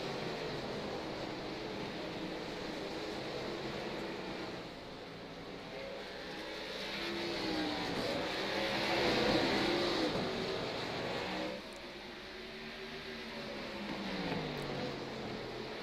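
Race cars roar around a short oval track, a pack running nose to tail with engine drone swelling and fading as they pass, continuous and moderately loud throughout, with no talk.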